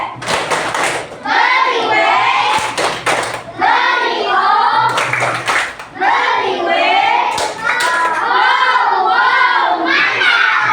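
Classroom of third-grade children performing the 'tepuk wewe' clapping cheer together, rhythmic group claps mixed with loud chanting voices, continuous and close throughout.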